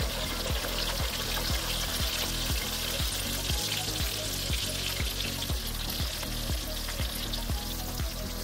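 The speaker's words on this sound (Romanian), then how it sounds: "Adăugăm alte felii de vinete pe măsură ce se prăjesc." Eggplant slices fry in hot oil with a constant close crackling sizzle, and a faint regular ticking pulse runs underneath; no one speaks.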